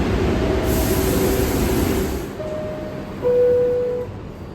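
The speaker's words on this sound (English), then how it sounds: "let's take the 6 train up a few stops" A New York City subway 6 train runs with a loud steady rumble and wash of noise, a hissing burst early on and thin squealing tones near the end, with no voices.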